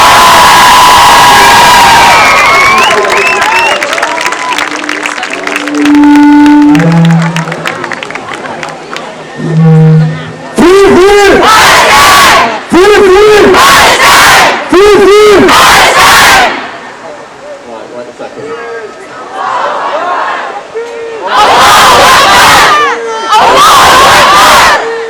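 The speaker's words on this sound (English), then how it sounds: "give them a cheer." A large crowd at a Palestine solidarity rally at Manchester Piccadilly cheers and shouts in several loud, sustained bursts separated by short lulls, with voices and chatter between the outbursts.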